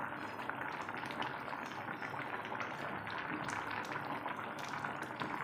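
Tengra fish simmer in a brinjal curry in a pot, a continuous, fairly faint bubbling and gentle liquid churn with no talking.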